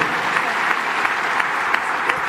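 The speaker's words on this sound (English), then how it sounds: "Everybody's clapping their hands for you." An audience at a live SaveSoil event applauds, a dense and steady clapping that fills the room, loud and sustained throughout with no voices on top.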